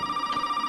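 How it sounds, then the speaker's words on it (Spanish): A telephone rings in the Resident Evil 7 horror game, a steady electronic tone held through a brief moment, moderately loud with no speech over it. "De nuevo el teléfono. Escuchamos el teléfono."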